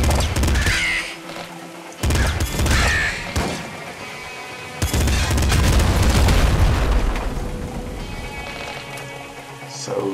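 Explosions in the top-down shooter Nuclear Throne: loud, dense booming bursts land around two and five seconds, the second rumbling on, amid busy game noise with caw-like cries.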